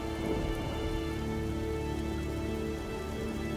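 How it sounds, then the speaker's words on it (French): Heavy rain pours steadily and densely, a constant close hiss of drops hitting surfaces with no pauses. "Il pleut encore des cordes."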